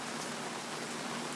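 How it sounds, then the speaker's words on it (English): Rain falls outdoors and comes down fairly hard, a dense, even hiss that stays constant throughout with no talking. "Oh my gosh, I love the rain so much."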